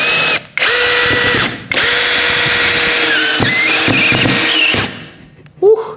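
A DOLIZ BD636 12V brushless cordless drill at speed 1 whirs loudly as it drives a screw through stacked wood about 6 cm thick, with brief pauses, then the motor winds down and stops.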